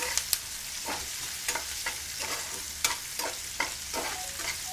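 Beef sautéing in a pan at a Kerala street food stall, a steady hiss of frying with scattered clinks and scrapes of a stirring utensil, moderately quiet and without talk.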